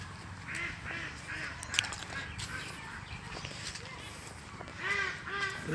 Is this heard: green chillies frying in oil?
no